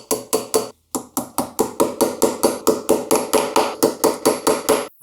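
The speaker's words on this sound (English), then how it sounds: "line it up the way it was lined up earlier, start driving in my tacks." Hammer tapping tacks into a strap on a wooden wine caddy: about twenty sharp, evenly spaced close blows in a quick steady rhythm, with one brief pause near the start, no voices.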